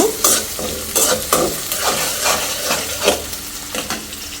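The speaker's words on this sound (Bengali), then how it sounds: "আমি পেঁয়াজ কাঁচামরিচ মিললাম মানে ভাজা ভাজা হওয়ার জন্য চুলার মধ্যে দিয়ে দিছি" Onions and green chillies sizzle in a hot pan while a utensil scrapes and stirs in repeated strokes, close and loud, roughly every half second.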